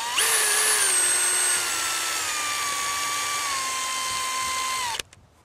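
A power drill whines loudly and steadily for about five seconds, pitch dropping slightly as it bores a hole in a wooden board, then cuts off abruptly.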